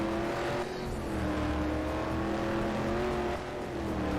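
A customized Corvette in a Corvette 50th Anniversary racing game revs hard and steadily, its loud, aggressive engine note holding a sustained drone with slight pitch shifts, heard alone without voices.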